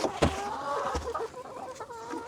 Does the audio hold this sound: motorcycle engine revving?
no